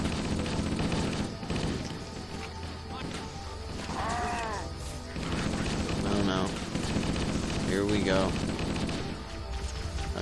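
Gunfire bursts from the Halo video game, dense and continuous across the clip, mixed with game music and occasional voice-like effects, with a player talking intermittently over it.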